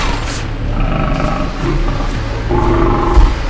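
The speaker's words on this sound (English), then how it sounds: "There is nothing between us and this lion right now." A lion's deep, rumbling roar rolls on close and loud, a continuous low growling drone with a heavier swell near the end and no speech.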